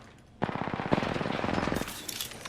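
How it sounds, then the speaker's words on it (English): Automatic gunfire aimed at an enemy squad in a video game, heard as a rapid, sustained burst of close shots that rattles for about a second and a half before trailing off. "Opening fire on the enemy."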